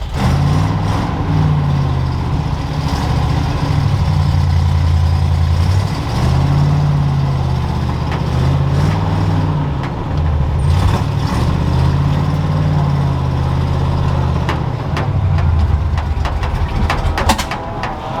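A 1969 Ford F250 crew cab truck, abandoned for years, runs with a loud, close, uneven engine rumble whose revs rise and sag repeatedly as if about to stall, with scattered clanks over it.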